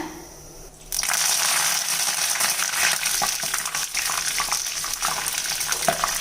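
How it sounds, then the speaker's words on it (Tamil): Curry leaves hit hot oil with a sudden loud burst of crackling and spattering that settles into a steady dense sizzle, heard alone at close range. "இப்போ இதிலே கொஞ்சம் கருவேப்பிலை பொறிச்சிக்கலாங்க"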